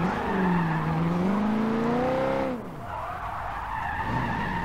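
Christine, a car in Forza Motorsport 7, brakes hard into a loud wavering tire skid that lasts a couple of seconds and then cuts to lower engine noise; someone speaks briefly.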